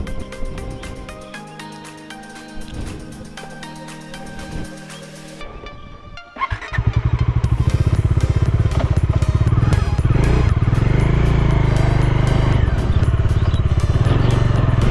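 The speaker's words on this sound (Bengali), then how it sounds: "তো তোমরা দেখতে পাচ্ছ যে বাজাজ ডমিনার 400 কি অ্যাগ্রেসিভভাবে চলে।" Bajaj Dominar 400 motorcycle (2024 model) being ridden on the road, with a quieter start giving way to a loud, steady engine roar and wind that fills the rest of the ride.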